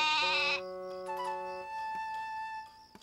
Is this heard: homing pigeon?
no